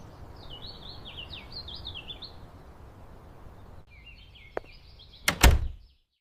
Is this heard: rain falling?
no